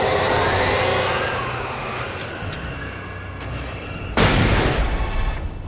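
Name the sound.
flashbang grenade explosion in the video game Alan Wake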